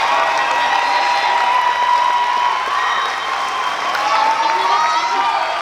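A graduation ceremony audience applauds honor students wearing gold ropes: loud, sustained clapping from a large crowd in a hall, steady for several seconds with a few cheers mixed in.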